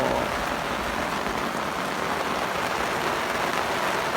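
Steady rain falls over a reservoir during a fishing trip, a constant even hiss of drops on surfaces that stays at the same level throughout, with no voices.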